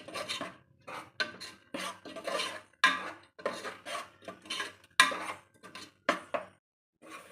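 Ground masala paste fries in a pot while a spoon scrapes and rasps against the metal in about a dozen rhythmic strokes, each a sharp, close burst with short gaps of near silence.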